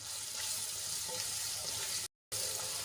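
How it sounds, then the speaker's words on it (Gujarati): Chopped onions sautéing in roasted gram flour in a pan, giving a steady, soft sizzle with faint stirring scrapes throughout, briefly cut to silence near the end. "ડુંગળીને આપણે ગુલાબી રંગની થાય ત્યાં સુધી સાંતળી લેવાની છે"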